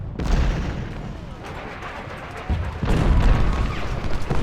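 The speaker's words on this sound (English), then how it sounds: "And they're getting hit by cannons." Heavy booming cannon fire from the video game Ultimate General: Civil War, blasts rumbling in the low end over a dense, continuous battle din, growing louder toward the end.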